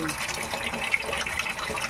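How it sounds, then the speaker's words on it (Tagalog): A little water is poured into chicken adobo cooking in a pan, giving a steady close splashing gush that runs throughout. "Lagyan natin ng konting tubig para hindi masyadong maasim."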